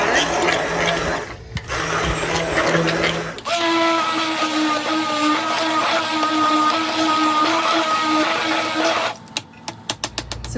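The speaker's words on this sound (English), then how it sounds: "this is a great example of an easy task with an immersion blender" Immersion blender whirring in applesauce, switching on to a loud steady motor whine for several seconds, then cutting off into a few rattling knocks.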